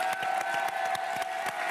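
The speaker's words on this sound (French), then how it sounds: "qu'on peut applaudir bien fort" Studio audience at a French reality TV live show breaks into loud applause, dense clapping with scattered louder claps filling the space, no talk over it.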